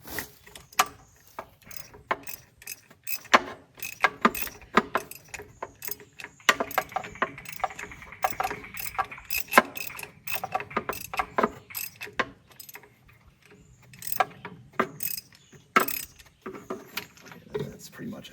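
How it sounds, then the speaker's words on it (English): A ratchet clicks in short, scattered bursts while spark plugs are removed from a Ford F100 engine, with light metallic clinks and tool handling close by and fairly quiet. "These spark plugs are actually coming out pretty easily"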